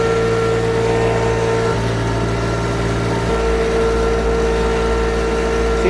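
Kymron XTL 30 machine engine droning steadily, its pitch dropping and loading down as it bogs while working in float mode, a continuous loud mechanical hum with a shift in tone partway through.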